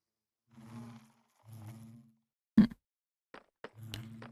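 Bees buzz around a beehive in the Minecraft video game. Several short, soft buzzing bursts come at uneven intervals, broken by a couple of sharp clicks, against quiet gaps.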